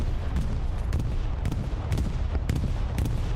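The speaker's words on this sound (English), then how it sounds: "Bombing run inbound." A bombing run strikes in a large 35-versus-35 online war game match, with a loud, dense barrage of booming explosions landing roughly every half second over a constant rumble, and no talking.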